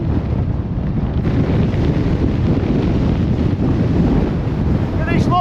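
Gale-force wind on an exposed Lake District fell during a wild camp, roaring and buffeting hard against the microphone as a loud, continuous low rumble, with a faint whistling tone near the end.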